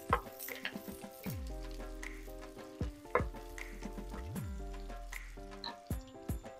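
Sliced onions with cloves, cardamom, cinnamon and mace sizzle steadily in a pan for butter chicken, a constant frying crackle with occasional stirring scrapes beneath soft background music.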